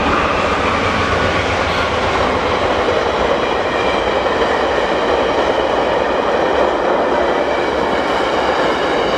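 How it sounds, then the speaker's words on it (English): A passing train makes a continuous, loud, steady rumble and rattle of rolling wagons that lasts the whole stretch, and a voice briefly says a word over it. "Oh, train."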